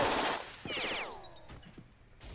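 Gunfire in Jagged Alliance 2: a loud burst of shots, then a ringing, sweeping tonal effect and a couple of sharper, quieter hits.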